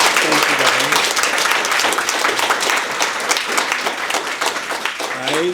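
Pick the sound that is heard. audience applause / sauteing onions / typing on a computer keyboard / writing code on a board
audience applause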